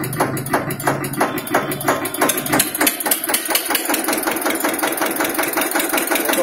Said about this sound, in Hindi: बढ़िया बढ़िया आवाज है, बड़ी प्यारी आवाज दे रहा ट्रैक्टर, स्लो बहुत ही बढ़िया